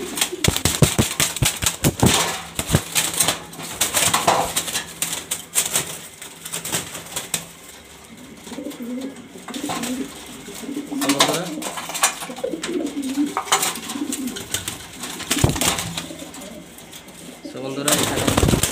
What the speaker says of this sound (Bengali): সব কোয়ালিটিফুল কবুতর মাশাআল্লাহ, পছন্দ হওয়ার মতো কবুতর